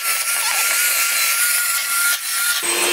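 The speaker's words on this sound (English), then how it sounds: "this whisking can take up to about 15 minutes altogether with an electric hand whisk" An electric hand whisk whips homemade zero-waste body butter, giving a loud, steady whirring and scraping drone that runs unbroken for about three seconds with no speech.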